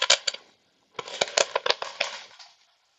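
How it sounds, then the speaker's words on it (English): Two quick bursts of hard, hollow clattering of cheap colored pencils rattling and tumbling against each other, close by and separated by a short silence. "Those are my cheap colored pencils."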